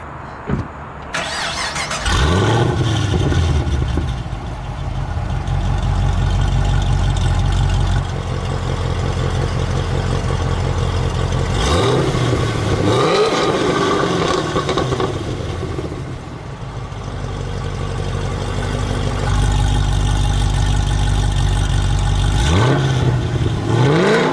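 A 2016 Chevrolet SS sedan V8 fitted with long tube headers starts up and revs repeatedly, deep loud rumbling swells rising and falling over a steady idle, close by with no talking.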